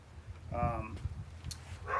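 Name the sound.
dogs barking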